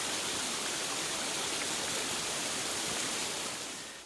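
A waterfall on a steep mountainside along a hot springs trail gives a dense, even roar close by, with no voices, tapering slightly at the end.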